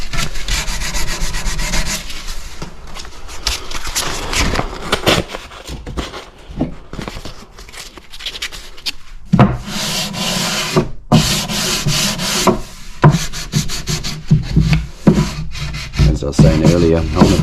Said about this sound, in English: you know when it's really nice and dry because it just sands off beautifully